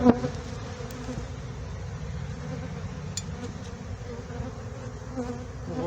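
Steady buzzing of honey bees around a hive being worked by a beekeeper, a continuous close drone with faint knocks, no talking.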